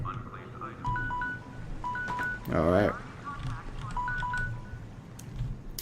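Short electronic tones from a phone repeat in stepped two-note patterns in a room while a computer game plays, with someone speaking briefly and a burst of game noise in the middle.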